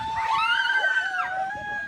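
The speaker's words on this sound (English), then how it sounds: "Some people are still screaming" Several people scream together on an amusement ride at a Disneyland-style park in Pokhara, a sustained high-pitched wail rising and sliding in pitch for about two seconds, loud and fairly near.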